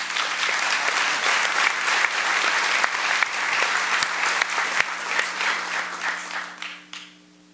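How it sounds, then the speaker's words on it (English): Sustained audience applause at a radio station's spring event, a dense, steady wash of many hands clapping close and loud before tapering off near the end. "I want to say you guys are doing a great job on the applause."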